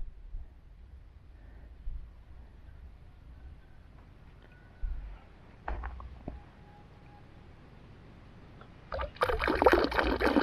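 Water moving through a siphon pipe outdoors, first faint soft trickles and a few knocks, then a louder rushing gush of water bursting out near the end.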